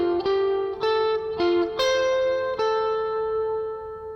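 Electric lead guitar with effects plays the second half of the interlude from a worship song: a handful of sustained, ringing notes with smooth pitch changes, close and clear, with no talking.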